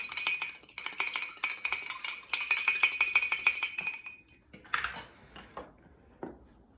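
Egg and vinegar being whisked for strudel dough in a bowl, a rapid run of bright metallic clinks and taps, then a few slower scattered knocks and scrapes, close and without talk.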